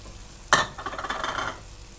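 Spicy potato and okra curry gets stirred in a pan. One sharp clink of the spoon opens a brief scraping, sizzling burst of mixing, close up with no voices.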